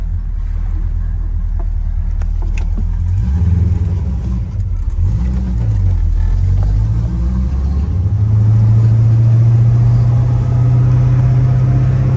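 A 1965 Pontiac GTO engine idling close by, a loud low rumble with a couple of rising and falling revs early on before settling into a steady, deep idle, with no talking.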